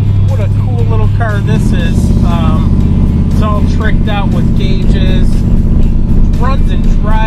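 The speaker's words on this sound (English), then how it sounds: "let's go for a ride in this bad 69 Camaro" A 1969 Chevy Camaro with a 350 V8, an orange muscle car, runs with a steady deep rumble close by while someone talks over it almost throughout.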